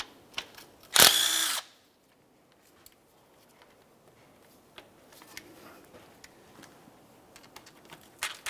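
A power tool whirs briefly to back out a transmission pan bolt on a 1994–2002 Dodge RAM 2500, followed by quiet clicks and handling of tools and parts.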